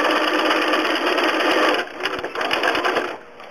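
A sewing machine doing close satin stitching of appliqué details such as whisker arcs in gray thread. It runs in a loud, steady whir, then breaks into shorter starts and stops.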